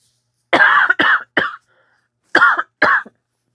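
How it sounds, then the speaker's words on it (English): A person coughs five times in two quick clusters, loud and close, with a brief silence between the groups. "Let me cough for a minute."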